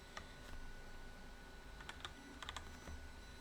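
Someone types an ICAO airport code on a computer keyboard: a few quiet, quick key clicks in small bursts against faint background hiss, with no talking.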